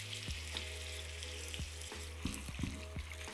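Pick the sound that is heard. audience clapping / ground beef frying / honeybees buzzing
ground beef frying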